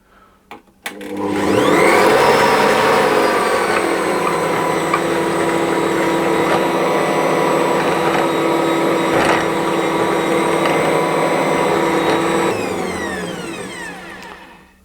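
An Ankarsrum stand mixer blending egg and cardamom for cinnamon bun dough: a loud, steady motor whir that spins up sharply, holds evenly for about ten seconds, then winds down.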